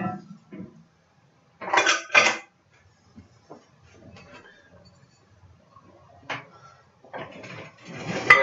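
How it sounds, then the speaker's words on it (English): Rinsed, drained beans are added to a pan of roasted vegetables for a southwest-style salad, with a few sharp clattering spoon-and-pan knocks in short bursts separated by near silence. "to those vegetables, we're going to go ahead and add our rinsed and drained beans"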